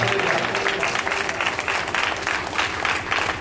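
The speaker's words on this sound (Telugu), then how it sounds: "మీరు ఎంత బిగ్గరగా వేసే చప్పట్లు కొట్టగలుగుతారో అందరూ గట్టిగా చప్పట్లు కొట్టి" A church congregation at Chilkur Methodist Church claps loudly and continuously in dense, sustained applause that fills the room with little change in level.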